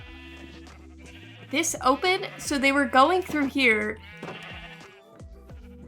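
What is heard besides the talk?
sheep bleating in video game Minecraft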